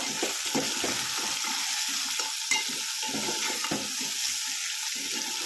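Drumstick pods and vegetables stir-fried in a pan with salt for a dried bombil curry, a steady close sizzle broken by irregular scraping strokes of a spoon, with no voices.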